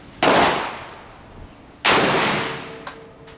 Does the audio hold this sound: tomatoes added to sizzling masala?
no